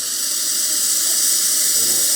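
A Rocket Appartamento espresso machine dispenses hot water in a continuous, even rushing hiss, steady and close throughout with no pauses.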